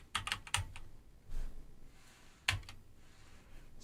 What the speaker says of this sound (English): Maybe if we type in Snow.